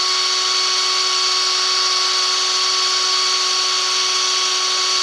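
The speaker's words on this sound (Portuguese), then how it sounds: "Deixa que a broca trabalha e vai furando." A drill bit bores holes in a digital clock project build, a steady high-pitched whine with a constant tone running unbroken and fairly loud, with no speech over it.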